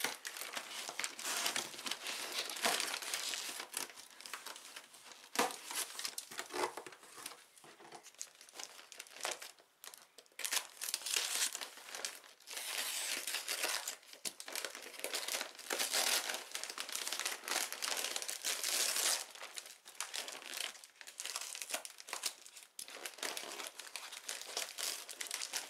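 Crinkly paper packing being pulled off orchids during an unboxing, a long close run of crisp rustling, crumpling and occasional tearing that keeps going with brief pauses.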